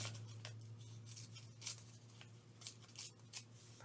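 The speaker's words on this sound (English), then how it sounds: "I'm just going to tear that, that word out" A word being torn out of a paper copy, with quiet ripping and several short crisp tears scattered over a few seconds, close and fairly soft.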